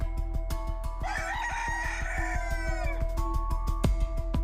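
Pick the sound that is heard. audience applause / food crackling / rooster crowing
rooster crowing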